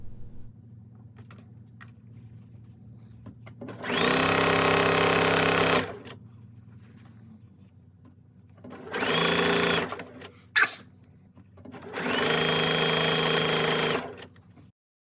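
A sewing machine stitches bias hem tape onto a skirt waistband in three loud runs, the first and last about two seconds each with a shorter burst between, set against a quiet steady hum.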